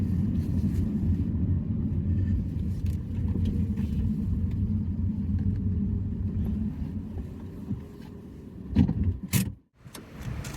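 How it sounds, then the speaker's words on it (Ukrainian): A taxi's engine rumbles at low speed as it parks and settles, then cuts off, followed by a few clicks and a thump from inside the cabin. "Зараз ми припаркуємось."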